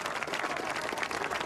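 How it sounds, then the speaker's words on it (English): A golf gallery at The Open Championship 2013 breaks into a big cheer and applause, a dense, sustained wash of clapping and crowd noise heard from a distance. "There's a big cheer"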